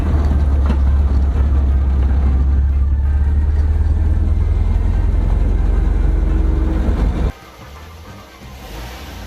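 A 1974.5 MG MGB engine running on the road, a loud steady low rumble with road noise for about seven seconds, then cutting to a much quieter background.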